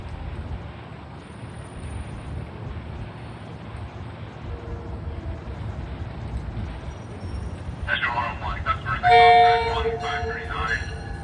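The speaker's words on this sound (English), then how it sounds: "What the hell kind of a horn was that?" A deadhead train from Croton-Harmon with a New Haven engine on the rear rumbles steadily past, then sounds a loud, brief horn blast near the end.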